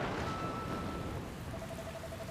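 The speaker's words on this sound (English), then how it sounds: "Huh? Where did this rain come from?" Steady, dense rain hiss begins in the video game Dragon Quest Builders 2, a broad continuous wash with a faint thunder-like rumble beneath and a soft tonal game sound, no voices.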